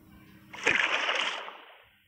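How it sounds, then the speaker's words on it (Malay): A single burst of bubbling and splattering from a mud bubble in magma, like a sudden squirt from a water pistol, rising quickly then fading over about a second and a half. "Jika Anda dekati gelembung yang berada di magma ini, bunyinya seperti pistol air yang sedang menembak"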